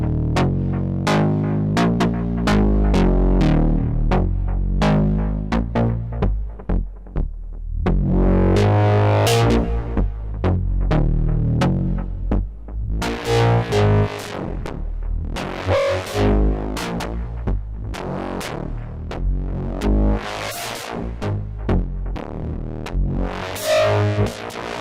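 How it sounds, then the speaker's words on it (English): A gritty, distorted synthesizer from a eurorack modular setup plays a series of notes, its tone wobbling and pulsing with modulation into wide inverse stereo distortion, loud and alone without voices. "This creates a nice wide inverse stereo distortion."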